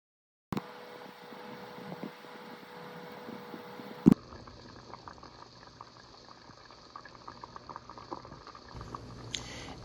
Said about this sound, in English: stirred it and simmered for another hour or until tender